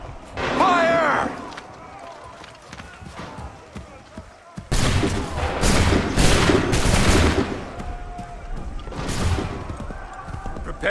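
Musket volley in an Assassin's Creed 3 battle, a ragged burst of gunfire that crackles and echoes twice in quick succession, loud and close, with commands shouted and soldiers calling out around it.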